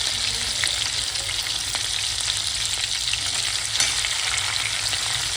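Garlic and green chilies sizzling in oil with cumin seeds, a steady close-up frying hiss with light crackle and occasional stirring, no voices.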